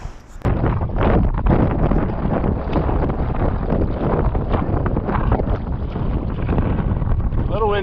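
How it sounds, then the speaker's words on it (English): Strong wind on a lake at Drummond Island buffets the microphone in a loud, continuous roar during a kayak trip, with engine or water noise underneath and brief speech. "A little windy."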